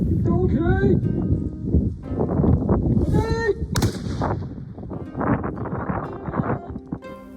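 Volley fire from Japanese matchlock guns by the front rank at a demonstration at Matsumoto Castle, sharp loud reports mixed with crowd voices and a steady outdoor background, people speaking throughout.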